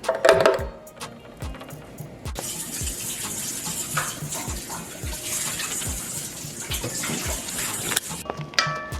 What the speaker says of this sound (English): I'm going to pour over the blended tomato paste